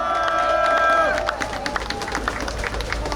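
Crowd applause and cheering at an outdoor Democratic Party presidential campaign rally in Suncheon, starting after a sustained tone fades, steady and moderately loud for about three seconds.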